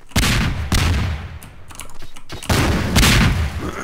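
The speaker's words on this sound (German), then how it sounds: "Oh, ich hab die fette Granate." Grenade blasts in Garry's Mod hit as several loud, sharp booms in quick succession, each trailing a short rumbling decay.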